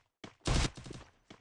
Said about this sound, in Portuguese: Ó, oh, bastante tiro no Cauê também